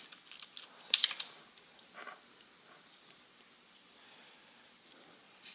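Keys clicking on a computer keyboard in short irregular bursts, close and fairly quiet, with a few sharper taps early on and sparser presses later, and no talking.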